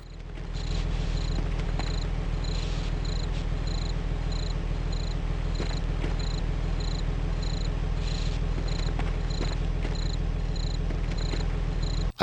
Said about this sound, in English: and cricket sounds outside.